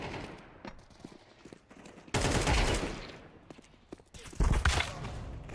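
Rapid gunfire bursts from Counter-Strike 2 matchmaking, with a quieter stretch of scattered shots giving way to two loud, dense volleys of fire.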